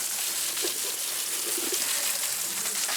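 Water sprays steadily onto trees and plants during hot weather, a continuous hissing shower with faint bird coos mixed in underneath.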